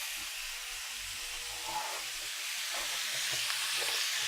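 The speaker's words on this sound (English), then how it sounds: "So we're gonna do, so this is perfectly getting seared on both sides." Pork chops sear in a hot pan with a steady, close sizzle and frying hiss that swells slightly toward the end, with no talking.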